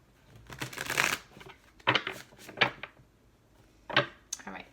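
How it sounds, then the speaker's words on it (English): Tarot cards are shuffled in several quick riffling bursts separated by short pauses, close and fairly loud, with a voice speaking at points. "All right, and this will be our last shuffle."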